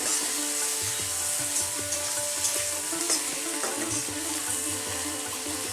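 Raw mango pieces fry in hot oil with tempering spices, a close, continuous sizzle with light stirring and scraping over a low steady hum.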